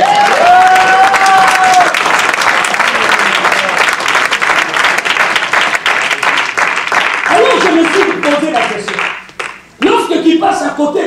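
A church congregation at a healing service breaks into loud, sustained applause and cheering, dense clapping filling the whole stretch with a brief dip near the end, voices shouting within the crowd.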